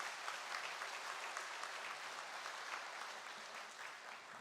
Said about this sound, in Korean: 우리 다시 한번 박수할까요?